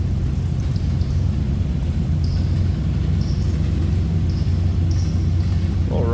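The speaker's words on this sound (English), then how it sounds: "Little rumble coming out of that small block shell. Again, 350." Steady low engine rumble from a 1987 GMC Sierra K20 4x4 with a 350 small-block V8, idling continuously at a close, even level with no voices.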